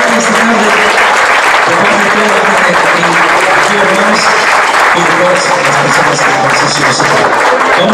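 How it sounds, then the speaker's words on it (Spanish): Audience applause at a tribute concert, loud and steady throughout, a dense wash of many hands clapping with faint voices mixed in. "Fuerte aplauso, sí, me gustaría un fuerte aplauso"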